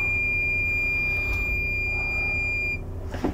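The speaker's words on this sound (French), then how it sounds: "il bip parce que j'ai oublié de fermer la porte arrière" Car warning chime sounding because the rear door was left open, a steady high electronic beep held for nearly three seconds before cutting off, fairly close and clear against a low engine hum.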